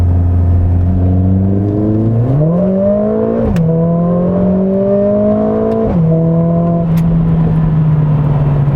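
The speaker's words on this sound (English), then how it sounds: "we get a little bit of pops and bangs as on the overrun from the engine, which does sound fantastic" A Mercedes-AMG CLA 45 S Shooting Brake four-cylinder engine accelerating hard, a loud close droning note climbing through gear changes with sharp pops and bangs between shifts, alone without talk.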